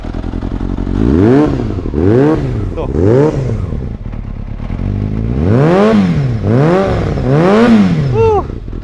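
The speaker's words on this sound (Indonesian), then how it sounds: "Knalpot karbon impor Taiwan." A Yamaha XJR400 four-cylinder motorcycle with an imported Taiwanese carbon exhaust revs repeatedly in sharp rising-and-falling bursts, loud and close, with pauses between throttle blips and a brief spoken word.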